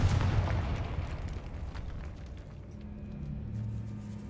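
A Confringo spell explosion in the video game Hogwarts Legacy booms loudly at the start, then decays into a fading rumble and echo, leaving a low, quiet drone.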